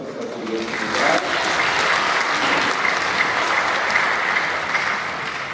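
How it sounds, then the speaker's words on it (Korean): A church audience applauds in thanks after a priest's talk on faith, with a dense, sustained roar of clapping that swells after the first second and holds steady and loud to the end. "다시 한번 감사의 박수 부탁드리겠습니다"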